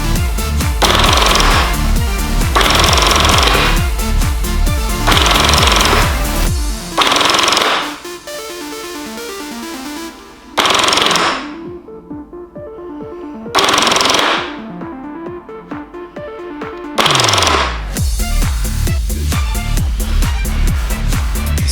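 A BF P90 gel blaster SMG fires in rapid full-auto bursts, loud and close, a fast mechanical rattle in bursts of several seconds separated by short quiet gaps.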